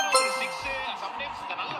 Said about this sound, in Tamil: உங்களுக்கு மெசேஜ்.